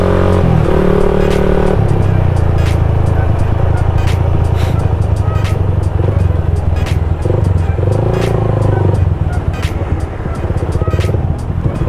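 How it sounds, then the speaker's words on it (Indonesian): A Harley-Davidson motorcycle rumbles loudly on Sudirman street, with a constant close engine drone and shifting throttle tones throughout. "Motor Harley Davidson."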